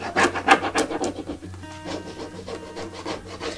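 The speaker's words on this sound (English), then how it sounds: "apply with rubbing pressure." Steady scratchy rubbing as an IOD transfer is pressed onto a surface, a rapid back-and-forth rasping rhythm close up with no talk.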